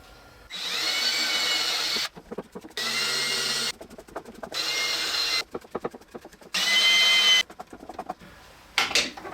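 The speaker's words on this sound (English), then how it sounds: "we're going to put 4 1/2" by number 8 screws from the bottom to screw this into place" A power drill drives 1/2-inch number 8 screws up from below into a ring on a separator, in several loud whirring bursts of a few seconds each, separated by quiet pauses and small handling noises.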